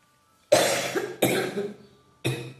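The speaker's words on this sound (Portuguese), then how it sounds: "Desculpa pela tosse." Three separate coughs from one nearby person, the first two close together and the third after a short pause, in an otherwise quiet room.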